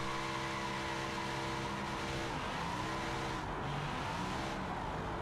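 A modded car in the video game BeamNG.Drive accelerating hard in third gear, its engine note droning loud and steady and rising in pitch, with a faint tire squeal and no voices.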